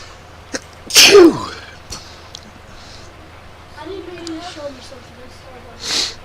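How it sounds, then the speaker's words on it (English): A single sharp sneeze bursts out loudly near the start, followed by faint murmurs and a soft exhale in an otherwise quiet space. "So I'm going to sneeze here, sorry."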